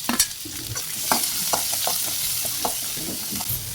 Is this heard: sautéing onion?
yes